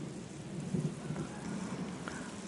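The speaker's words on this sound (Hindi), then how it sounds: "ये बारिश तो हो रही है, थोड़ा सा मौसम बन रहा है, बादल आ गए हैं।" Steady rain falling outdoors under cloudy, stormy skies over a ginger plot, a dense continuous wash of drops with a low rumbling undertone, moderately loud and unbroken, no voices.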